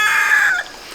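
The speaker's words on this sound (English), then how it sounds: "These damn roosters." A rooster on a pig farm crows loudly and close by in one short, strained call that cuts off abruptly, leaving quiet background.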